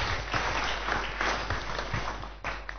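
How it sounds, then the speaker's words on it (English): Sustained applause from a church audience at a religious gathering, dense and steady for the whole stretch, with a brief dip near the end before the clapping swells again. "Give him a round of applause"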